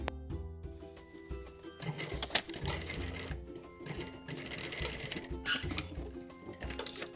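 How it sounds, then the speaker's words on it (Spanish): A sewing machine runs in short bursts while stitching over an existing seam on a garment's facing, giving a dense, rhythmic mechanical whir with brief pauses between runs, up close. "coso por esta misma, encimita de esta misma costura"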